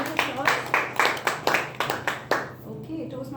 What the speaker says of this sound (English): Let's all please give a round of applause.